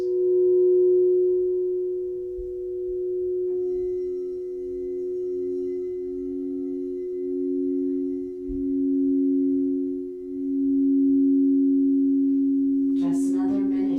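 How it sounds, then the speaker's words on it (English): Singing bowls ring in a sound bath, sustained, smooth tones that hum and overlap, with a second bowl joining partway and pulsing gently, followed by a brief soft strike near the end. "back to the sounds of the bowls"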